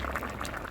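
A pot of tamarind sambar with lentils and vegetables simmers steadily up close, a soft continuous bubbling with no talk.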